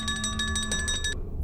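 Telephone ringing in Verne: The Shape of Fantasy, a bright electronic ring pulsing in quick repeated bursts over a low hum, then cutting off abruptly near the end.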